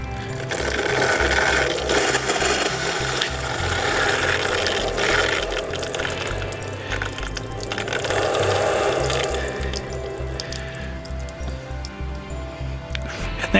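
Chlorinated water pours and splashes continuously from a camping trailer's tank outlet, a steady gurgling flow with some sputtering bursts as air makes it splash, close by and fairly loud.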